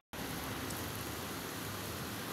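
Rain that has been falling since morning, a steady, even hiss of dense drops that starts abruptly and continues without pause, fairly close and with no voices over it.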